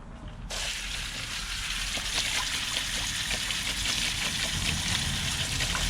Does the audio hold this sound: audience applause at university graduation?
no